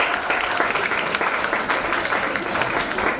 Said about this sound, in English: A big round of applause to all the delegates here